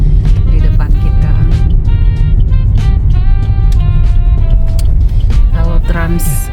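Road traffic on a university campus road in Darussalam, Banda Aceh, with a student bus nearby: a loud, steady engine rumble with passing vehicles and horn-like tones, while a person talks over it.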